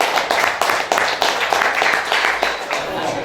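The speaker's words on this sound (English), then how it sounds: "give these 2 guys a massive round of applause" Massive round of applause for two fighters, Dennis Jones and Darren Jones, at a fight club press conference: loud, dense clapping from a crowd, steady and continuous throughout, with no voices standing out.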